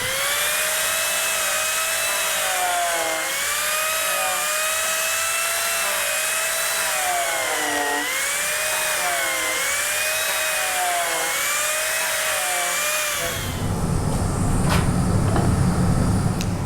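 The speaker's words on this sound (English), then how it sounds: "now I'll go and plane it with the TURBOPlane" An Arbortech TURBOPlane power plane on wood: a high wavering motor whine runs for most of the clip, then gives way to a louder, rougher burst of planing near the end.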